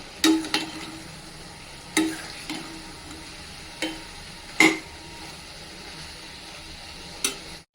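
Meal maker curry with masala is stirred in a pan, a spoon knocking the pan in a series of sharp, separate clinks and scrapes over a low background sizzle, with no voices.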